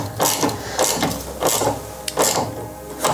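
A bolt is run in on the rear wing of a Mini Cooper with a power tool, giving a series of about six loud, close mechanical whirring bursts in a quick, uneven rhythm.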